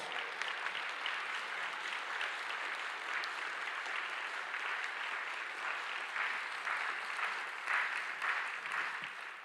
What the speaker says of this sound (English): Let's give Alex English another round of applause